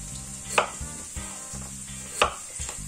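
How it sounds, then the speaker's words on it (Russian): Potatoes being diced with a knife on a cutting board, two sharp chops standing out over a steady sizzle of onion frying in vegetable oil in a nearby pan, with lighter taps scattered between them. "рубану картошку."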